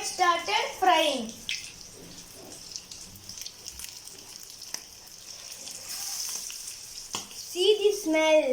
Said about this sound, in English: So it started frying.